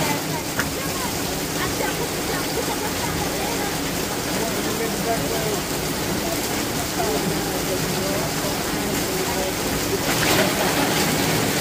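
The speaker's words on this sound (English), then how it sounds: "A little bit of rain and look at all the water rushing down." Steady, dense rain hisses with runoff water rushing down a mountain road beneath it, a continuous wash of sound with a voice speaking over it.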